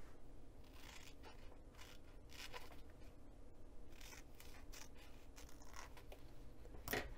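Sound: scissors cutting a fabric dart

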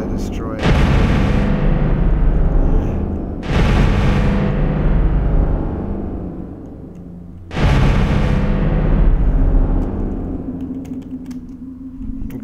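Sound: pulse weapon blasts destroying ship blocks in StarMade video game

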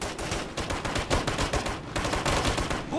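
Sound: gunfire in the Operation Flashpoint Red River video game

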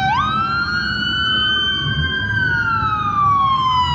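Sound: loud emergency vehicle siren

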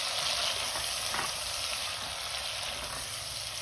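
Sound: tomatoes frying in a pan with garlic paste

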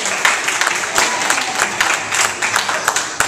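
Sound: church congregation hand clapping in praise

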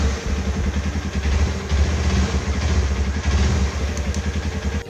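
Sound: Runner Turbo 125 motorcycle engine idling

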